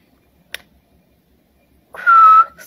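A single sustained whistle rings out loud and close for about half a second, following near silence broken only by a brief faint tap.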